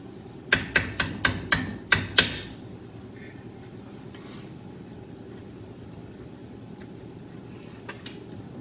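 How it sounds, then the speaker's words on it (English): Seven quick, sharp metallic taps from a small hammer in a steady rhythm, close by, during work on a vintage Arctic Cat Jag 3000 snowmobile, followed by quiet room noise and two faint clicks near the end. "I guess this little bitty dunce hammer will work."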